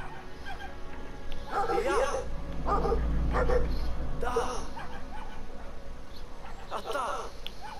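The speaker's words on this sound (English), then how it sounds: "We gotta save that dog." Dog whimpering and yipping in the video game Brothers: A Tale of Two Sons, short cries over low game ambience with a voice talking at times.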